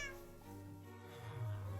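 Cats meow in a Minecraft game, a short run of soft, fairly quiet meows with no other sound alongside.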